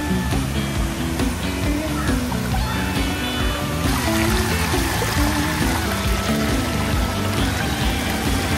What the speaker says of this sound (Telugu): ఫుల్గా వాటర్ ఫాల్స్.